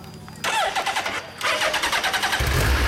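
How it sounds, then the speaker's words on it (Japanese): A 2011 Suzuki Hayabusa GSX1300R motorcycle engine starting up: the starter cranks, the engine catches and revs briefly, dips, then settles into a loud, close, rhythmic idle with a deep rumble. "エンジンかけてもらえますか？"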